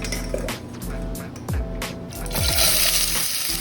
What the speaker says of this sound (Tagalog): At yung isunod natin na iprito ay yung patatas.